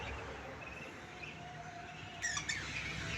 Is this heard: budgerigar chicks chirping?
yes